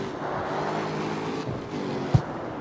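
A car engine hums and revs while weaving through traffic in a racing video game, near and steady with a brief thump near the end.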